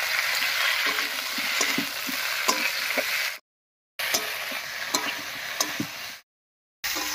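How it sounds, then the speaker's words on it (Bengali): Cauliflower, potato and onion being stirred with a paste of ground chilli, cumin, ginger and coriander in a frying pan: a steady loud sizzle broken by scraping spatula strokes, interrupted by two short silent gaps. "মশলার সঙ্গে ফুলকপি আলু পেঁয়াজ কলি সবকিছু খুব ভালোভাবে মিশিয়ে নিয়েছি"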